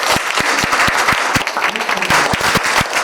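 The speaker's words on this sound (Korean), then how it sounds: "다 같이 나는 자랑스러운 대한민국인이라는 마음으로 박수를 한번 쳐보시기 바랍니다" An audience in a lecture hall claps loudly and close by at the end of a history lecture, a dense steady burst with some sharp individual claps standing out and faint crowd murmur underneath.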